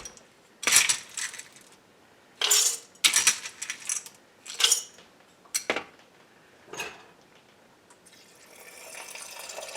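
Glass canning jars being set into a cold canner filled with cold water, for canning no-soak kidney beans: several separate clinks and clunks of glass on metal, close and fairly loud, with some faint water movement and no talking.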